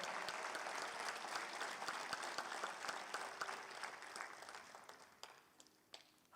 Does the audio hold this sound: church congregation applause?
yes